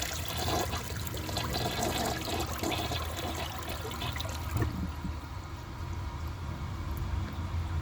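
A 1999 Porcelamex toilet flushes in a bathroom with a loud rushing swirl of water for about five seconds, then drops to a quieter refill trickle.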